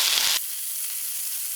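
Diced potatoes drop into hot oil already crackling with mustard seeds and dry chilies, giving a loud, bright sizzle for a split second that quickly settles into a faint, steady hiss.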